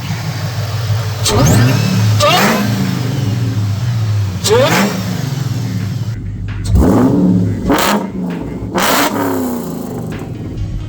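The supercharged engine of a four-door Ford SVT Cobra sits at a rumbling idle and is blipped with several loud, close revs that surge and drop back, each with a rising whine.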